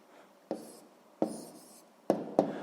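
A pen writes out a math answer on paper in a few short scratchy strokes, each starting sharply and trailing off, close and quiet with no talking.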